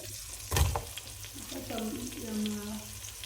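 Onions and bell pepper fry in a pan for spaghetti sauce, opening with a sharp knock or clatter and followed by a low sizzle with scraping and stirring; a voice murmurs faintly in the background.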